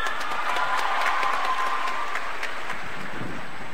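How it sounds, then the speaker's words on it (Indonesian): Large university hall audience giving a politician a sustained round of applause, loud dense clapping that holds steady from start to finish, with crowd murmur beneath. "Tepuk tangan sekali lagi dong."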